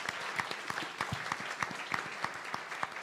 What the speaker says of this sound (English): So that alone deserves a big round of applause